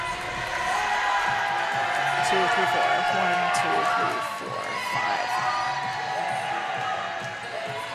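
A roller derby crowd cheers and shouts steadily in a large venue, loud and continuous, while an announcer speaks and counts over the noise.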